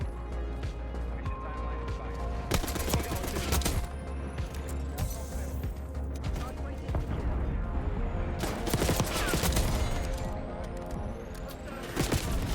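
Rapid bursts of submachine gun fire in Black Ops 6 come in two loud clusters with crashes and impacts, mixed with game sounds and someone talking over the action.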